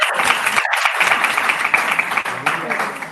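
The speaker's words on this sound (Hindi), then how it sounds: "तालियां बजा के बताओ" An audience in a talk or sermon setting claps steadily in a continuous, fairly loud wash of applause that runs through the whole stretch.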